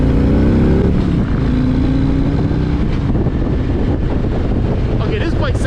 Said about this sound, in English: Okay, this bike sounds fantastic.